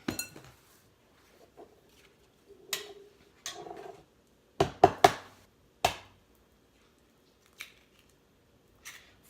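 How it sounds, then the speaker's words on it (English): Four large eggs cracked into a dish: a few sharp taps and clicks of shell against the rim, quiet and spaced out, with soft handling noises between them. "we're going to add the eggs in"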